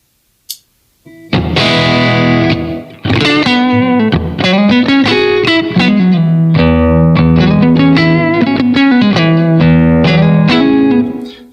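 An electric guitar plays through the UK amp model of a Blackstar Amped 1 pedalboard amp, with a driven, distorted tone. Loud chords and single notes ring out alone after a brief pick noise at the start.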